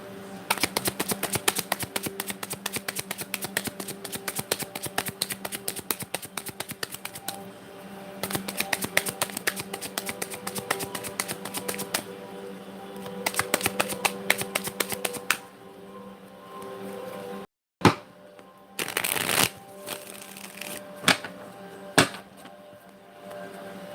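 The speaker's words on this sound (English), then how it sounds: "Last shuffle." Tarot cards are shuffled by hand in rapid, dense riffling bursts with short pauses between them, followed by a few separate slaps and taps as the deck is squared, close and crisp.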